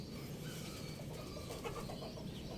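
Racing pigeons coo softly at a loft in Angeles under overcast, drizzly skies, low murmuring calls that stay faint and continuous.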